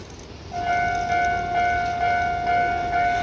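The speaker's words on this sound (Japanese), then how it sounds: "今ちょうどまた踏切が鳴りましたんで、また電車来ますね。" Railroad crossing bell at the Tokorozawa Kaido crossing by Kawagoe Station, a steady ringing tone that starts abruptly and keeps pulsing evenly over a low background rumble, fairly close.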